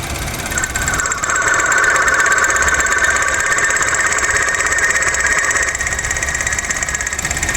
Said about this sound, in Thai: เสียงมาที่คอมนะผม